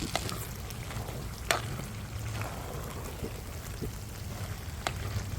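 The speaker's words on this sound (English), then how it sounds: "So I'm gonna fry it for a little bit more." Steady sizzling of eggplant and okra frying in a pan, with occasional sharp clinks of a utensil against the pan.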